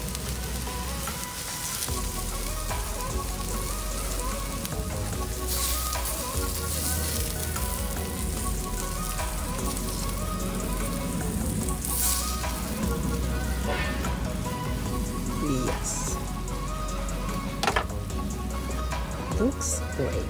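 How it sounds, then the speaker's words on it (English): Spiny lobster (langusta) simmers in a creamy sauce in a pan, giving a steady close sizzle and bubbling with occasional clinks, running under a talking voice throughout. "we can put the langusta into the sauce"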